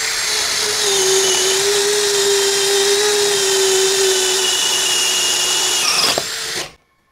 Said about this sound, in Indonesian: Coba lagi, masih speed 2 mode drilling, kayu meranti.